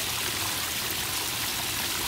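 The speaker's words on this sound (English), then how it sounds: "so it's very slight leak" Water trickles from a slight leak in a backyard pond, a steady, close hiss of flowing water with no breaks.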